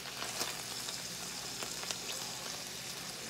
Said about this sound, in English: Get that butter popping.